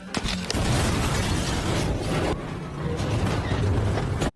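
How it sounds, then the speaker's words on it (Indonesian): A thrown grenade goes off beside a robot in an action film, making a loud, sustained rumbling blast with crackling debris that dips briefly midway, then cuts off abruptly. "Shen nemuin granat, terus dia lemparin ke dekat robot."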